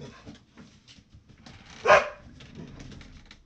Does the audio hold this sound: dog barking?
yes